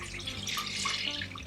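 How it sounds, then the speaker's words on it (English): Milk pours steadily into a saucepan, a continuous close liquid stream with no breaks, moderately loud. "Pour the milk into a saucepan"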